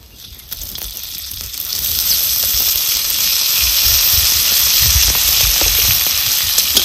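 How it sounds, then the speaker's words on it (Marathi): Dried peas roasting in hot oil in a pan for a village-style curry give a steady, close sizzle that swells after the first couple of seconds and holds bright and even. "तेल वतून चांगला आता आपण भाजून घ्यायचं."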